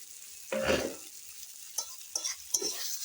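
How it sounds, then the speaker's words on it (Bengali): Fried pointed gourd tossed into spice masala in a pan, quiet crackling with a few distinct bursts of sizzle and stirring clanks separated by near silence. "এখন আমি দিয়ে দিচ্ছি পটল ভেজে রাখা পটলগুলো"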